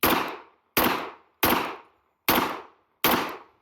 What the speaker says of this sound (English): Fire purposeful shots into the dirt.